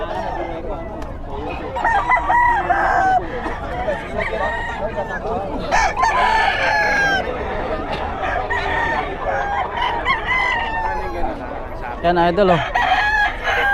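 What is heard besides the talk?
roosters crowing at a chicken market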